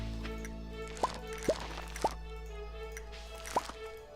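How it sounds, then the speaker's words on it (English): Four separate water droplet plops from a watering can in the farming game Stardew Valley, spaced irregularly over a low steady background hum and heard alone without talk. "now we just need to water everything before we run out of energy"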